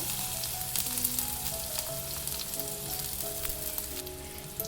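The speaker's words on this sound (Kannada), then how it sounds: "ಸ್ವಲ್ಪ ಜೀರಿಗೆ ಹಾಕ್ಕೊಳ್ಳೋಣ ಇದನ್ನೊಂದು ಸ್ವಲ್ಪ ಚಟಪಟ ಅನ್ನಲಿ" Cumin and mustard seeds sputter in hot oil in a pan, making a continuous close sizzle dotted with sharp little pops and crackles throughout, steady and moderately loud with no voices.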